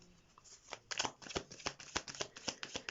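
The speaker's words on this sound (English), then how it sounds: "while I'm shuffling the cards" Tarot cards being shuffled by hand, a steady run of crisp, close riffling flicks and slaps in irregular rhythm, fairly quiet and heard alone.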